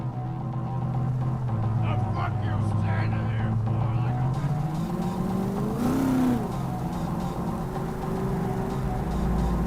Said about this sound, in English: Jackie's car is a super-powered sports car running on Chew-2, the super fuel of the future.